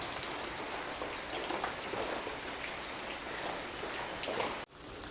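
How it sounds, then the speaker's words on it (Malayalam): Heavy rain pours steadily with a continuous loud hiss and patter, uninterrupted until a brief cut near the end. "നല്ല മഴ കേട്ടോ"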